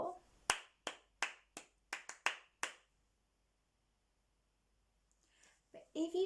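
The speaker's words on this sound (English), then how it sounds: "clap some 4-beat rhythms that are nice and easy to copy" Eight crisp hand claps in a quick, even rhythm from a teacher modelling a four-beat pattern to copy, close and clear, followed by silence and then a voice starting to speak near the end.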